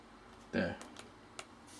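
Keys tapped on a Pocket C.H.I.P handheld's small built-in keyboard, one louder press followed by a few faint scattered clicks, close and sparse.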